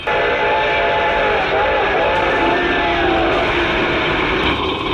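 A loud passing train with a sustained, wavering whistle and a faint bell over heavy rumbling, continuous throughout.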